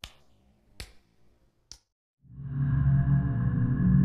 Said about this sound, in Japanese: まるでアスファルトを裸足で歩いているような音だ